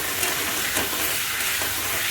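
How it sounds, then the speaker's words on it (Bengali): A ginger-garlic masala paste fries in a pan for an egg and potato curry, giving a steady, moderately loud sizzle and hiss with a few faint stirring scrapes and no talk. "আর মশলাটা ভালো করে আমি কষছি, তাতে গন্ধ না হয়।"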